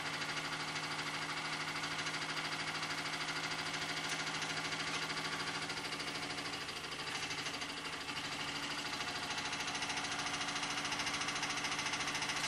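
A model steam engine with a freshly glued bearing bracket runs steadily, a continuous close mechanical chugging hum with a constant tone and no pauses, while some steam leaks away.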